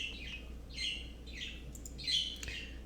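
Several birds chirp and squawk nearby in short, loud, bright bursts, four or five calls spaced about half a second apart over a low steady background hum.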